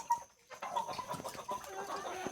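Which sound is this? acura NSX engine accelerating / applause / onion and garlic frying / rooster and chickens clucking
rooster and chickens clucking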